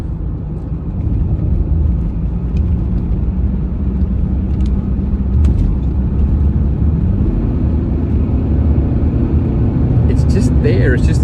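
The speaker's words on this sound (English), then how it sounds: "There's a hill I can accelerate up here coming up again." An all-wheel-drive car engine drones steadily at low pitch while accelerating uphill, a continuous rumble with a faint whir, while a person talks over it.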